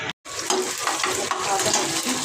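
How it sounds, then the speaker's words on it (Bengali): Onions frying in a pan with dried prawn and dried chillies make a continuous watery sizzle after a brief silent gap at the start, close and moderately loud. "পেঁয়াজ ভাজা করছে"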